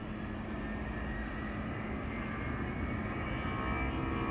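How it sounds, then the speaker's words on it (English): Delta airliner's jet engine roaring steadily at an airport during plane spotting, a broad continuous rumble that swells slightly louder toward the end, with no talking. "my favorite plane to spot of the day because of this engine sound"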